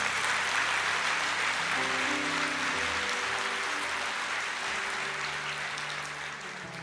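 Congregation applauding during an evangelical church service, a steady sustained wash of clapping with musical tones underneath, gradually tapering off.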